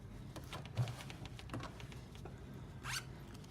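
Zipper on a handmade sewn fabric zipper pouch being handled and adjusted, with a few short, close, soft zips and rustles of fabric.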